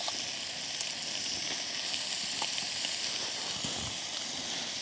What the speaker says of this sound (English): I mess with the bacon to keep it from sticking to the bottom of the pan, get that all crispied up